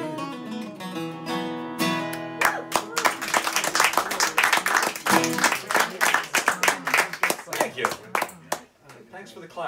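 An audience at a house concert breaks into a burst of clapping after a song ends, the final music fading into steady applause from a small close crowd.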